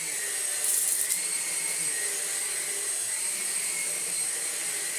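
A Numatic Henry Quick NQ100 cordless bagged vacuum cleaner runs with a steady high-pitched motor whine and airflow hiss, close and constant throughout, with no speech.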